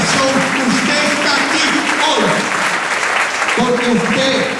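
Church congregation applauding in a Spanish-language service, loud steady clapping throughout with a voice speaking over it.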